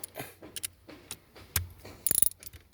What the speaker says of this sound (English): then we use our ratchet handle and our 12 socket